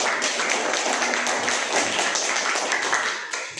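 A classroom of students applauding presenting student groups during an Islamic studies lesson, a steady, dense patter of clapping that holds evenly and fades slightly at the end.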